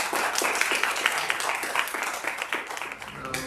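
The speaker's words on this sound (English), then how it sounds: "Another just round of applause." An audience claps after a musical guest's morning fire pit session, a fairly loud, uneven round of clapping with individual claps standing out and a little talk mixed in.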